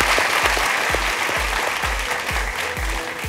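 Studio audience applause for contestant Ploy on a Thai code-breaking game show, steady clapping over a rhythmic thumping music beat that pulses throughout.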